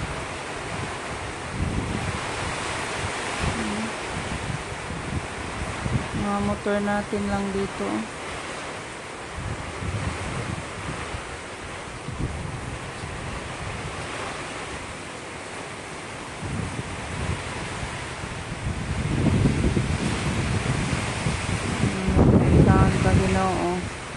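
Strong wind from Typhoon Tino roars steadily, buffeting the microphone, while a person talks over it and a few motorbikes pass.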